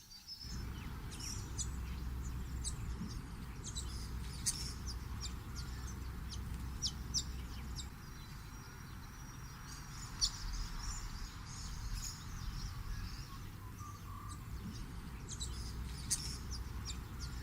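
Purple-crowned lorikeets calling near Melbourne, repeated short high chirps and screeches scattered over a steady low background rumble, fairly faint and distant.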